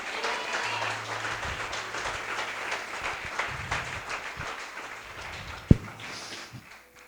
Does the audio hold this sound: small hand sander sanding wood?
no